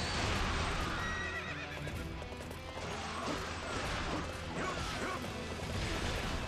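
In the video game Dynasty Warriors 8 Empires, a horse gallops with rapid hoofbeats and whinnies amid dense, loud battle clatter and crashes, with no talk.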